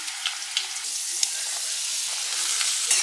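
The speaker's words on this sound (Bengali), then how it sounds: "এবার আলুটা প্রথমে ফ্রাই করে নেবো, তারপরে সবজিগুলো একটুখানি হালকা ফ্রাই করবো।" Potatoes frying in oil with garam masala, star anise and mace give a steady, close sizzle with light crackles and faint stirring scrapes, no voices.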